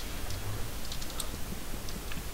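A command being typed on a computer keyboard, a quick run of soft key clicks over a steady background hum.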